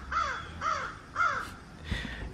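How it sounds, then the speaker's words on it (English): Crows caw outdoors in alarm at cats nearby, three evenly spaced harsh calls followed by a fainter fourth, moderately distant. "If you hear those birds, there's a few cats playing outside and the birds are telling each other like, cat, cat, cat. And there's a big uproar."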